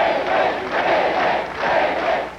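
A crowd cheers outside New York City Hall on a morning in 1989 at the political event of the city's first Black mayor. It is a loud, sustained roar of many voices swelling in waves.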